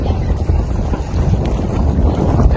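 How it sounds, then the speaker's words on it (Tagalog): Strong waves pounding a small boat in rain, loud close rough splashing and buffeting with heavy wind rumble against the microphone, continuous and choppy. "Kung gaano kalakas ang alon, ayan, nakikita nyo. Pinapalo kami."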